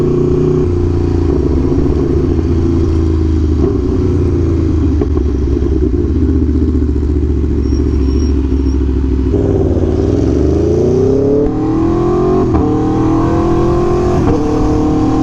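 An Aprilia Tuono V4 Factory motorcycle's V4 engine rumbles steadily and loudly up close, its pitch dipping then climbing again as the revs rise and fall, with no voices.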